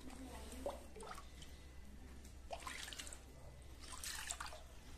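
Water poured as an offering over a statue on Yankin Hill in Mandalay, Myanmar, heard as faint, intermittent splashes and trickles over a low background hum, with a voice speaking nearby.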